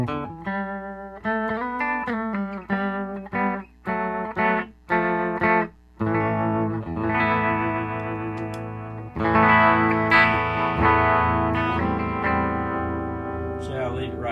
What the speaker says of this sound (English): If I turn the swirl pool on,